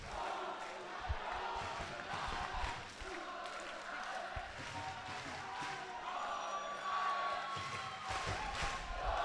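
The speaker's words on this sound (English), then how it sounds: "The crowd singing the well-known Northern Ireland chant." Large stadium crowd at a mixed Euros final singing the well-known Northern Ireland chant, a steady loud wash of massed voices with scattered cheers and thuds throughout.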